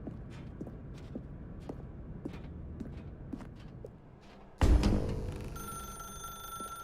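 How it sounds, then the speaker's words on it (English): Footsteps tap at a steady pace in The Stanley Parable, then a telephone starts ringing loudly and continues with a sustained electronic bell tone. "Now pick up the phone, said the bucket."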